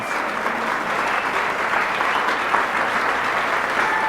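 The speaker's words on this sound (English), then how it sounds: "That deserves a round of applause." Audience at a radio hall of fame induction breaks into sustained applause, a dense, even wash of clapping from a large crowd heard close and loud throughout.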